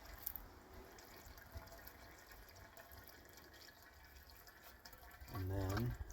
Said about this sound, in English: So you prime the pump by pouring water